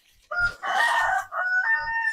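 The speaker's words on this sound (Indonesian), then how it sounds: "Ayam itu." A chicken gives a loud, drawn-out call in several rising and falling segments, close by, with soft thumps underneath.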